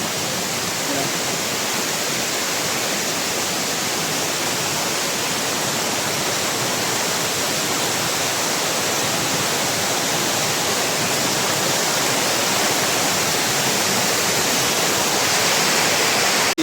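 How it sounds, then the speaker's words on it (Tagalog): Heaven Falls waterfall in Davao de Oro roars as a loud, steady broadband rush of falling water, constant and close throughout. "Ito yung Heaven Falls nila dito sa Davao de Oro."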